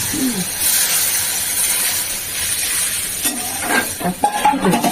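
Black cumin seeds and green chillies sizzle in hot oil in a pan for a Bengali hilsa fish curry, giving a steady close hiss with light stirring and a few utensil clinks near the end.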